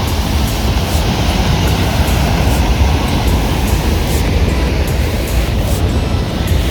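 Water pours down a waterfall in Munich with a loud, steady, broadband roar that stays constant throughout and has no voices over it.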